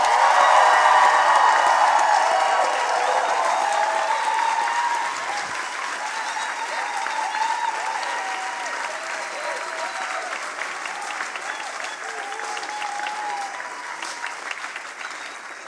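Sustained audience applause from a large crowd at a science slam, loud at first and then settling to a steady, slightly softer clatter of many hands.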